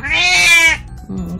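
An elderly 19-year-old cat gives a loud, close meow that falls away into a shorter, lower second call.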